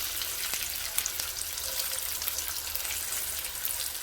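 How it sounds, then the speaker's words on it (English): Peppers and tortilla pieces sautéing together in a pan for chicken mole, a steady soft crackling sizzle with scattered pops, close and even throughout, no voices. "gonna saute everything together until the tortilla is nice and golden"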